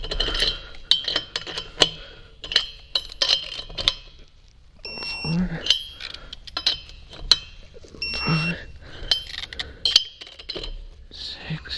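Clicking of a torque wrench as wheel lug nuts are tightened on an Airstream trailer, sharp metallic ticks and clinks scattered across the stretch, close and fairly loud, with someone talking between them.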